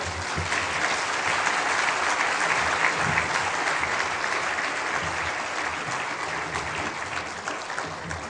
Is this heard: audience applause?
yes